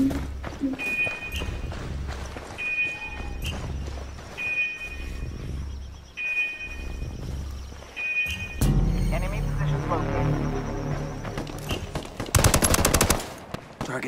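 Automatic gunfire rattles in repeated bursts during a Ghost Recon Wildlands PvP match, followed by heavier mixed shots and a loud dense volley near the end, all close and punchy.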